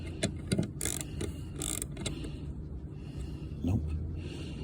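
A bolt is loosened on the rear side skirt of a 2021 Tesla Model Y, fitted with carbon fiber skirts, producing faint, quick mechanical clicks and ratcheting rattles in bursts, close by and fairly quiet.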